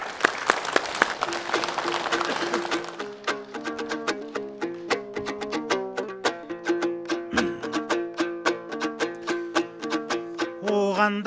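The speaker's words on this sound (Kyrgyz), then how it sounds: "Кол чаап сахнага чакыралы" Dense applause from an audience at a ceremony marking 35 years since the Soviet withdrawal from Afghanistan fills the opening seconds, then gives way to loud rhythmic music with a steady beat that continues to the end.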